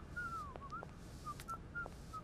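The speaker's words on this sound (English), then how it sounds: "There is definitely somebody whistling." Someone whistles a simple tune inside the video game Syberia, a thin melody of sliding and held notes that stops and starts over a steady low ambient hum, moderately distant.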